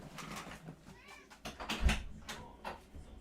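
A cat meows several times in short, close, fairly quiet cries near a door, with faint background noise between the calls.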